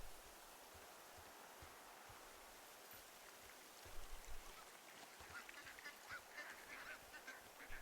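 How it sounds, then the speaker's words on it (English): Ducks quack on the water in the video game Firewatch, a faint, steady wash of ambient noise with scattered quacks and honks growing slightly louder midway through. "can hear ducks and stuff on the water."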